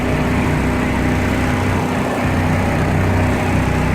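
A two-stroke engine running on premix fuel, likely a small outboard on a boat near a ferry, drones steadily and loudly throughout with a continuous buzzing hum.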